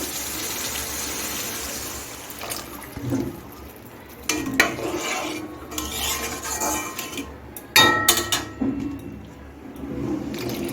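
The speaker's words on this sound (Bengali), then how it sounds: "এখন আমি গ্রেভিটা করার জন্য জল দিয়ে দিচ্ছি" Water gushes and splashes into a mourola fish curry in a pan amid clinks and scrapes of cookware, a few loud bursts over a steady background hiss.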